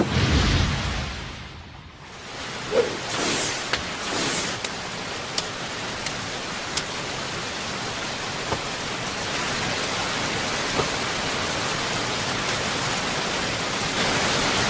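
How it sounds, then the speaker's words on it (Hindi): Dense, steady downpour in an animated fight scene, a broad hiss of rain with a brief dip near the start and scattered sharp drops or impacts over the constant wash. "बारिश हो रही है, इससे उनकी गंध मिट जाएगी।"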